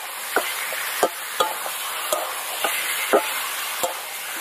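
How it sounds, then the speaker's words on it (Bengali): Chicken fries with onion, ginger-garlic paste and tomato in a pan, a steady soft sizzle broken by repeated sharp clicks and scrapes of a spoon stirring, about one every half second. "মাংসটা ভালো করে একদম পেঁয়াজ, আদা, রসুন, টমেটো সব কিছুর সাথে ভালো করে ভেজে নেবো"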